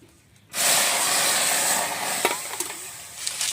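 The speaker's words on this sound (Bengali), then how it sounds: "ডাল ভাজা হয়ে গেছে, জল দিয়ে দিচ্ছি।" Water poured onto fried lentils in a hot pan bursts into a sudden loud hiss of steam that holds steady, then slowly eases into bubbling with a few small pops, close up and with no one talking.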